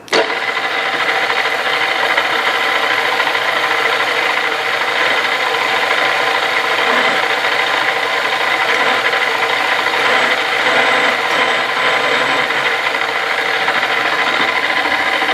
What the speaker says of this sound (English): is start drilling. I'm just going to bring the drill bit down on top of